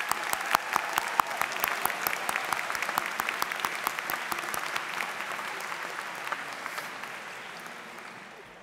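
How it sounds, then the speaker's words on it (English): A graduation audience breaks into applause, a full crowd clapping steadily with a few sharper nearby claps standing out, slowly tapering toward the end. "let us applaud you"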